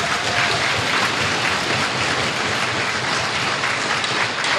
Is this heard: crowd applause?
yes